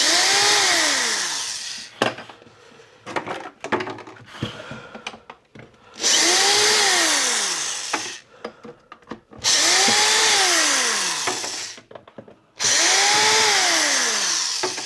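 A power drill unscrewing a screw whirs in four long bursts, its pitch rising and falling with each run, separated by short clicks and handling noises.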